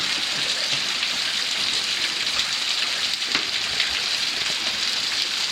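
Heavy water pours down like a shower inside a stream cave, a dense steady hiss and splash that stays loud and close with no breaks, and a few faint knocks and movements sit under it.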